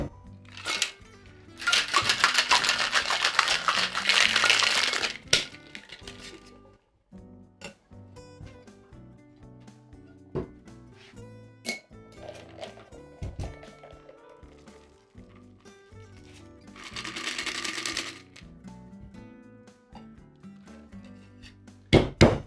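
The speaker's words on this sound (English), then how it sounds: "We're going to do the same exact shaking technique, the reverse dry shake, and build up that egg white foam." A cocktail shaker holding an egg-white drink is given a reverse dry shake. Two loud, rattling bursts of vigorous shaking, roughly three seconds and two seconds long, are separated by scattered clinks and taps of bar tools.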